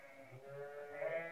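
A sheep gives a drawn-out, wavering bleat at moderate distance during shearing, heard alone against faint background noise.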